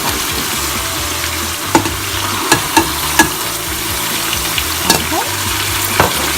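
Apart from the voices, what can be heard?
stirring tomatoes and spices frying in a pan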